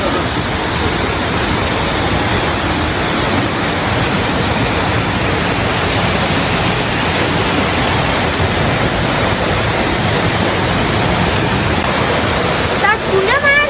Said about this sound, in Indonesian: Air terjun Sumurang.